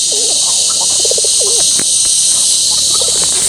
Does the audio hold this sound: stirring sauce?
no